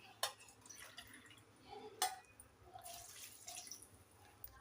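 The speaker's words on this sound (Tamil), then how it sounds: "2 டம்ளர் அளவுக்கு இதில் தண்ணி சேர்த்துக்கலாம்" Water poured into a pot of bitter gourd, a sputtering splashy stream with a few sharp drips and clinks, fairly faint and steady over several seconds, no talk.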